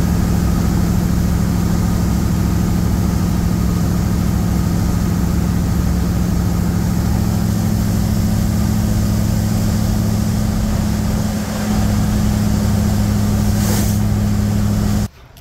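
A rat rod car drives down a road toward Missouri, its steady engine drone and road rumble constant and loud throughout, easing slightly near the end.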